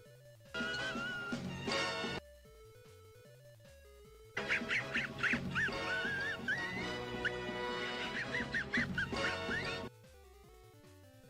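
Muttley, the dog from the Wacky Races NES video game, snickers in wheezy, raspy electronic chiptune bursts, two loud stretches broken by quieter gaps, with no one speaking.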